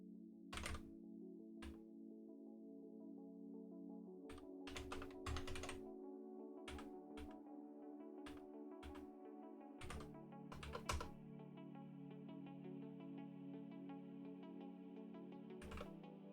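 Irregular clacking keystrokes on a computer keyboard that is acting up, in bursts of taps with pauses over a steady low hum, close and moderately loud.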